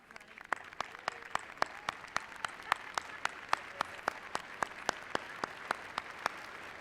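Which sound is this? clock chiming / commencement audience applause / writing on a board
commencement audience applause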